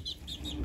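Young Cornish meat chicks give three quick, faint high peeps in an even rhythm over low background rumble.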